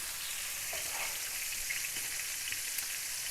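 Afghani chicken sizzles in a pan as crushed cumin and ground dried coriander are mixed in, a steady hissing fry with soft stirring, close and continuous without talking.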